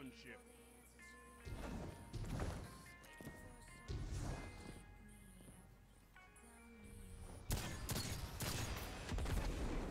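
Rapid video-game gunfire with sharp impact cracks and thuds, dense bursts repeating across the round amid game effects, loud and close throughout.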